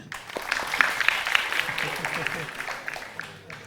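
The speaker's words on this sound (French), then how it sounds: "Applaudissez pour Madame Aminata." Audience applause at a public political speech in Kaloum, a crowd clapping steadily and fairly loud, swelling early and tapering slightly toward the end, with voices mixed in underneath.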